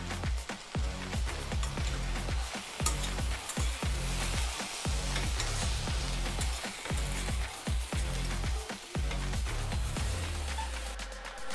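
Okra fry with garlic, cumin and turmeric sizzles in a pan while being stirred, with repeated soft scrapes and knocks of a spoon against the pan over a constant crackle, close and alone.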